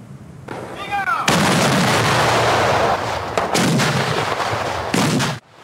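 Traditional Meriam Talang cannons fired on Eid eve in Kuala Kangsar, Perak: loud, heavy booms in close succession with long rumbling roars, a brief whistling sound before the first blast.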